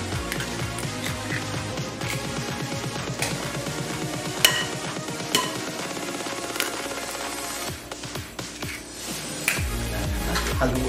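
Two eggs are being stirred and mixed for a cassava cake, a rapid clicking and tapping of a utensil against a bowl that keeps a busy rhythm throughout, loud and close, with occasional sharper knocks.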